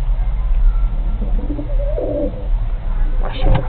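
Pigeons coo softly inside a pigeon coop that also holds young birds. Low, rolling calls sit over a steady background hum.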